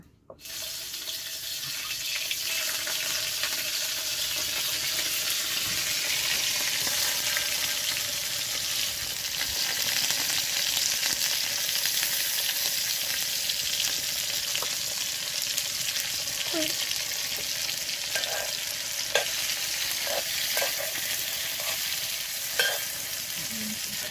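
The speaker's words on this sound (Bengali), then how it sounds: "চিংড়িটা দিয়ে ভেজে নেবো" Prawns frying in a pan, giving a loud, dense, continuous sizzle close by, with a few faint clinks of stirring late on and no voices.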